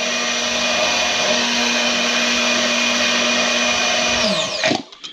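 A blender grinding aloe into lemonade runs at a steady high-pitched whine with a loud, even motor hum, then winds down and stops near the end; no voices.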